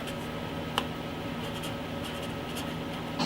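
Pen scratching out a label on a small piece of tape, faint short strokes in quick bursts over a steady room hum.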